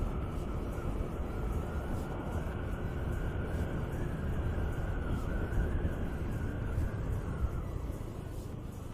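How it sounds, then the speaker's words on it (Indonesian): An airplane passes overhead near a golf course, a steady broad roar with a sustained whining tone, heard over continuous road and wind noise during a ride. "Pesawat."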